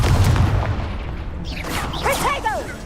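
Incendio fire spell going off in the Hogwarts game, a loud low boom at the start that fades into a whooshing burst, with chirpy magical effect tones trailing near the end.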